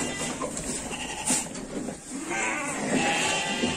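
Sheep bleat repeatedly on a Moroccan farm where a flock of about a hundred sheep is held for sale, with overlapping calls from several animals, fairly close and loud throughout.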